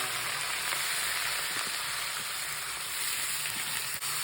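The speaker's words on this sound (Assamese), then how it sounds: "এয়া গৰম তেলত ফ্ৰাই কৰিব লাগিব কিছু সময়" Mushrooms fry in hot oil with a dense, steady sizzle that crackles continuously, heard up close with no talking.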